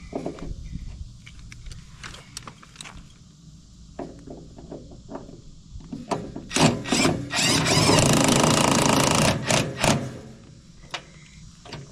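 A power drill whirs in short bursts, then runs longer and louder, drilling holes while installing a generator transfer switch, mixed with clinks and rattles of tools handled nearby.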